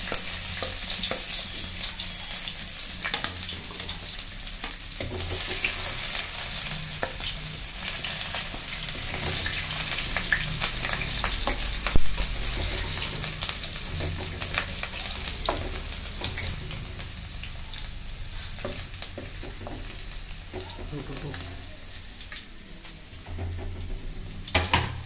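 Ginger, garlic and spices fry in a hot pan for a paneer mushroom dish, a steady close sizzle broken by repeated scraping and clinking from a stirring spoon.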